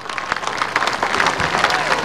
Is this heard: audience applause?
yes